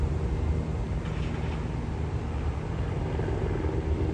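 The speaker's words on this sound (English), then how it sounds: "Uh-oh, helicopter's coming already." A helicopter over Beverly Hills, heard as a steady low rumbling drone mixed with street traffic noise, continuous and moderately loud with no clear approach or fade.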